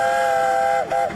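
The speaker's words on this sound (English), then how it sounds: "The train passes more flower beds, then turns south again" A miniature passenger train runs past flower beds at a garden festival in Gateshead, England; a steady, loud whistle tone holds for about a second, dips briefly, then sounds again close by.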